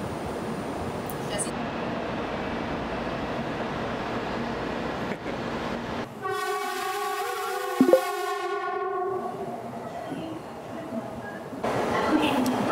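A train pulls into a station in Osaka, Japan, with a rising electric motor whine and rumble that swells and then settles as it slows. A brief clunk comes partway through, over a steady station ambience.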